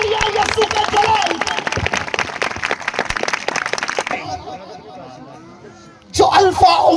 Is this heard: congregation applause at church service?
yes